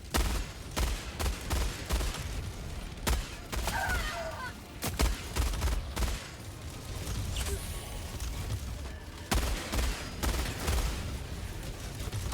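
Heavy machine gun firing in the video game Helldivers 2, heard as repeated bursts of sharp, close gunshots with brief pauses between them and other game sounds in the background.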